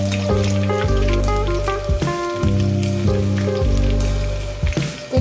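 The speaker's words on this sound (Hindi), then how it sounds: "ये देखो अच्छे से फ्राई करना है जब तक ये क्रंची ना हो जाए।" Vegetables for manchow soup fry hard in a hot pan until crunchy, a loud steady sizzle that rises and falls with repeated stirring, with scraping clinks. No one speaks.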